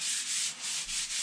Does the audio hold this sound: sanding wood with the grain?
yes